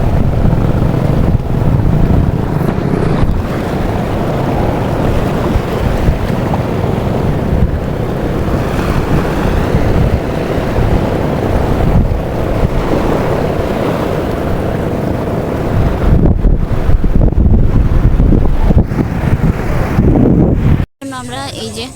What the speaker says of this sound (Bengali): এটা হচ্ছে ইনানি বিচ।